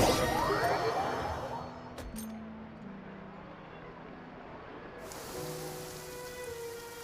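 Steady rain in the video game Arcon Quest makes a soft, continuous hiss, with faint musical tones layered underneath and no speech.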